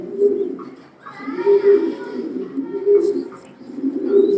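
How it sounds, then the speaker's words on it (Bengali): A male racing pigeon coos close by in repeated low, throaty rolls, roughly every second and a half, with some faint background sound between the calls. "এটা নর কবুতর"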